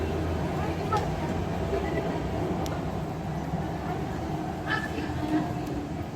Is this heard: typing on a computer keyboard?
no